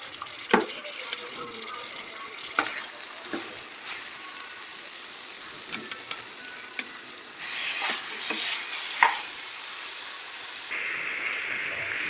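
Pre-cooked chicken sizzles in a softened tomato gravy, with a soft frying hiss punctuated by sharp spatula knocks and scrapes against the pan at close range.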